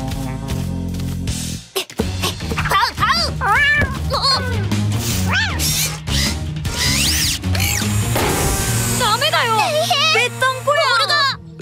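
Mischievous cartoon kittens meow repeatedly in high, wavering calls over a busy music bed, with brief mechanical ratcheting sounds and a child-like voice speaking at times.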